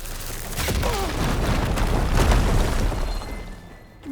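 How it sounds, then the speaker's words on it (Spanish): A continuous deep rumbling explosion in Horizon Forbidden West fills the whole stretch, loud and dense with crackling bursts, before tapering off near the end. "Que no me mate nomás la explosión"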